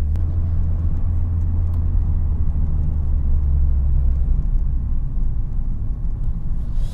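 A car engine idles and creeps in a stop-and-go traffic jam on the Riyadh ring road, a steady low rumble with a faint whir, heard from inside the car without talk.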